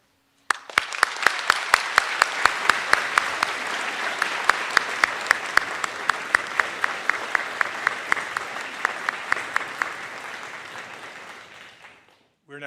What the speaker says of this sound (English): Would you please join me in giving a round of applause in recognition of Tracy?